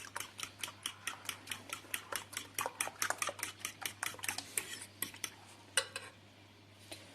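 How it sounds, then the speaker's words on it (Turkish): A whisk or spoon beats strained yogurt and milk in a bowl, a rapid run of close, bright ticking clinks that slows and thins out toward the end. "Bir su bardağı da sütüm var. Onu da boşaltıyorum. Bunları da çırpacağım."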